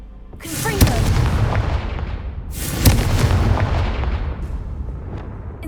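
Confringo blasting spell in Hogwarts Legacy, two loud explosive blasts about two seconds apart, each with a sharp crack followed by a long rumbling, crackling decay.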